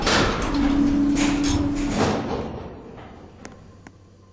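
Schindler M-Series elevator doors in a Roblox game slide shut with a sustained rumbling glide lasting about two seconds, then fade out, followed by two faint soft clicks.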